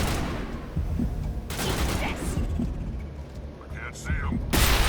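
Squad gunfire in Mass Effect Legendary Edition, with teammates focus-firing on a single target: a dense, continuous barrage of overlapping shots with bright bursts along the way, fairly loud and with no talk.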